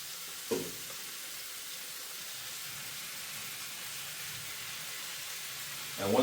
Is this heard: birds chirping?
no